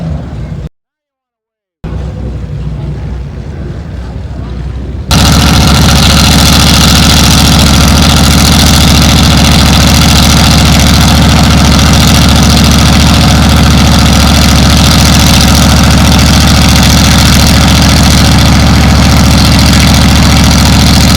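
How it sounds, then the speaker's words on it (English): A red Chevy pickup truck at a classic car show idles steadily, then its engine swells loud and constant as it pulls away, with voices briefly audible early on. "There goes the red Chevy pickup heading home."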